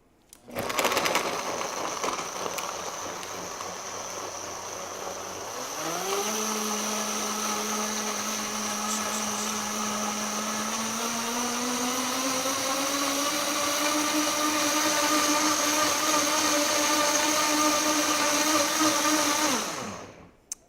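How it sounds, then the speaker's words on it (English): A Vitamix blender blends a smoothie with fruit and a teaspoon of Truvia: a loud, steady motor whine that steps up in speed partway through, holds a high grinding roar, then cuts off abruptly. "what type of blender do I have? It's a Vitamix."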